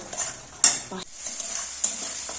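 Spice paste for Bengali-style potato curry fried and stirred in a pan, with a hissing sizzle and a few sharp metal spoon clinks and scrapes against the pan, close and without speech.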